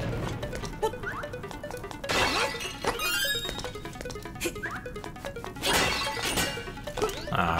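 Clay pots shattering in The Legend of Zelda: Link's Awakening, several sharp crashes with bright, crumbling debris, mixed with other quick game effects and blips, loud and close with no talking.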